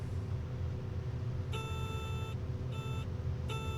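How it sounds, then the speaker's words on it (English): A Cessna 414AW Chancellor's stall warning sounds during a test flight with an engine failure: three steady high tones, the first long and the next two shorter, over a constant low engine rumble. "There's the stall warning."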